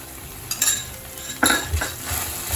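Fresh cream being stirred into a paneer gravy in a pan, with a few clinks of a spoon against the pan and soft stirring scrapes over a low sizzle.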